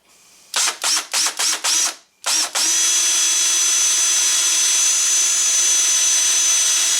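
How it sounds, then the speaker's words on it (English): A power drill bores into wood with a Forstner bit for a teardrop trailer latch: five short trigger bursts, a brief pause, then one long steady spin, all close and loud. "Now we'll take that off and drill."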